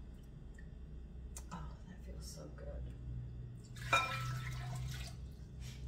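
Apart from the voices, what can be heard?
cold water poured into bread dough mixture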